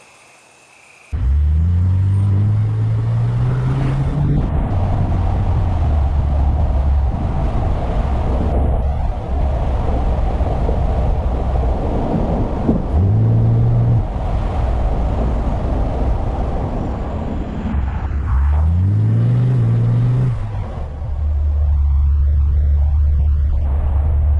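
A Pontiac G8 with a V6 engine is driving, heard from inside the cabin as a loud, steady engine drone and road rumble, with the revs rising and dropping through several gear changes.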